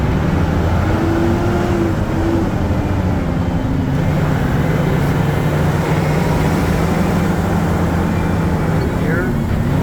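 A water truck rolls along a road with its center middle sprayer running, a steady loud engine drone near the engine at about 1,500 RPM under a continuous broadband hiss of spraying water, with a short tonal whine early on.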